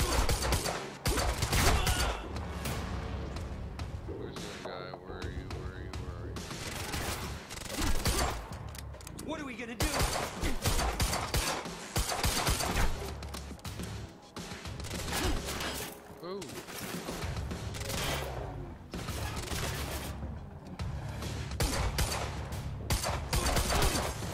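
Dense gunfire in the video game Quantum Break: sustained automatic bursts and rapid shots pile up almost continuously, loud and close, amid other combat effects.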